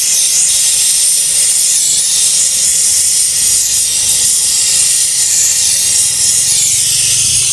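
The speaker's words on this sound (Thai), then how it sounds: "ใช้เชื่อมธรรมดาของเรา" A welding torch brazes copper pipe on the leaking hot condenser coil of a two-door no-frost refrigerator, giving a loud, steady, broad hiss that holds unbroken throughout with no talking.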